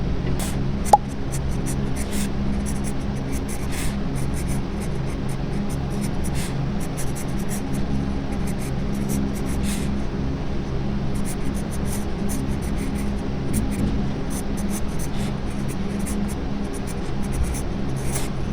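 Pencil sketching on paper, a steady continuous scratching and rubbing that runs unbroken for the whole stretch, close and fairly loud, with no voices.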